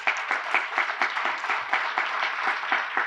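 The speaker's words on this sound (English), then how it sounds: "Let's give the Forsberg 40 another round of applause." An audience at an awards ceremony gives the Forsberg 40 another round of applause, a fairly quiet, rhythmic patter of clapping from a modest crowd that keeps an even pace for a few seconds.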